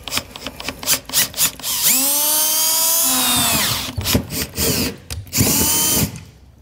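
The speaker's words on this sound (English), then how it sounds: "we'll go ahead with just an eighth inch drill bit, just kinda get our holes in place" A power drill with an eighth-inch bit whines up and bores pilot holes for fifth wheel hitch base rails on a 2016 GMC truck, its pitch rising and falling, with handling clatter and short bursts before and after.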